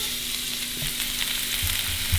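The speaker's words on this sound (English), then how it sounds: "Let those sear up, 2 minutes on each side" Mule deer tenderloins searing in hot liquid coconut oil, a loud, constant close sizzle and crackle with faint handling sounds and no voices.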